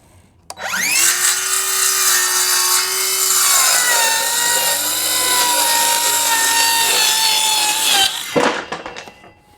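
A saw cuts through a wooden floor panel for a Lowe 1448 jon boat casting deck, one continuous loud, steady cut lasting about eight seconds with a sharp start and stop, no talking.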